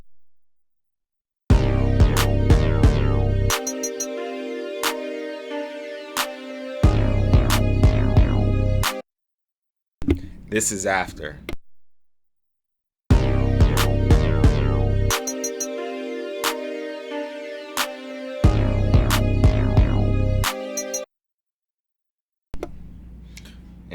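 A mixed drum loop with a deep, punchy kick is played twice, first dry and then with bus compression, each pass in loud repeating blocks, with a short spoken phrase in between.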